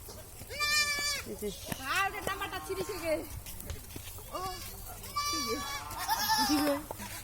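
Several goats bleat loudly and repeatedly, overlapping wavering cries close by, with a person talking in between.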